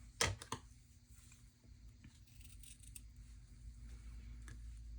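Scissors trimming a measured piece of textured paper for a folio journal, a few quick close snips early on, then quiet handling sounds at a low level.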